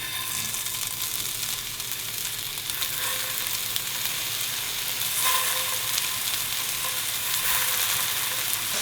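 Eight sugarcane chicken kebab skewers sizzle in a pan, a dense, even crackle up close that holds steady for the whole stretch and swells slightly near the end, no talking.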